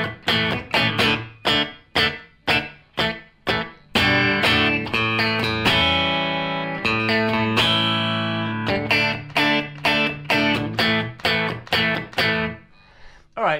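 Electric guitar plays the chorus of a song, with choppy muted strums alternating with sustained ringing chords, loud and close, alone without talk.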